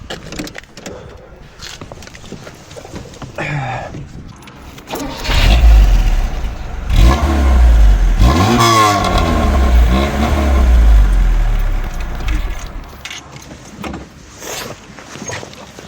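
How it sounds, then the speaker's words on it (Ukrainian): A four-cylinder VAZ 2104 engine revs hard through a loud custom exhaust, rising and falling in several throaty bursts after a quieter idle. "тут у нас стоїть кастомний вихлоп"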